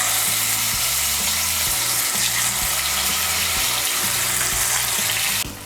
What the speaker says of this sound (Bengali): এখন আমি মাছগুলোকে ভেজে নিচ্ছি।